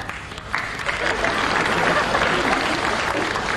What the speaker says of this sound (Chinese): 你拍拍手啊，